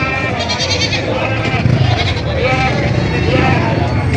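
Sheep and goats bleating in a busy livestock market, continuous crowd noise with animal calls throughout and people talking nearby.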